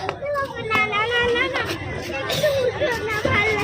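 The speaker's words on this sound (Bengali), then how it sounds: "ভিড় তো খুব প্ল্যাটফর্মে" A crowded railway platform fills with a steady babble of many overlapping voices, with nearby chatter standing out above the general hubbub.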